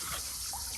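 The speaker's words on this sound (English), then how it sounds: "Grab some water." Water poured into a gold pan during panning, a soft steady trickle and splash lasting under a second, close and moderately quiet.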